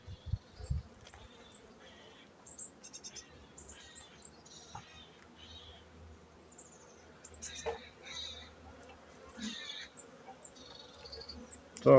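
A honeybee colony clustered on the mesh of a hive frame during autumn nest preparation gives a soft, continuous buzz with individual bees whining past, close by, broken by faint knocks and handling noises.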